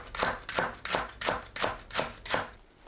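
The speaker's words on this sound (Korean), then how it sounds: "넓은 잎은 길게 반 가르고 채 썰어 줍니다" A kitchen knife slices napa cabbage leaves into thin strips on a cutting board, giving seven evenly spaced, crisp chopping thuds close by with no voices.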